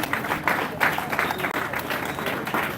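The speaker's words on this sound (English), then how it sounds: "If you can give them a round of applause" Audience applause at a press conference on a judiciary demonstration, steady clapping that holds for a few seconds with no talk over it.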